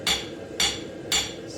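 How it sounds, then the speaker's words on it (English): Three loud rounding-hammer blows on metal plate at a blacksmith's forge, evenly spaced about half a second apart, each a sharp ringing strike with a brief decay. "I can use my rounding hammer to pull"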